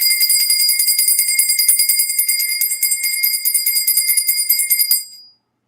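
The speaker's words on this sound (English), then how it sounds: "I need to ring the bell." A bell rings continuously in a rapid, bright, jangling trill, loud and close, for about five seconds before stopping abruptly.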